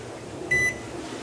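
A single steady electronic kitchen timer beep, fairly loud and lasting a fraction of a second, rises over a quiet room hum.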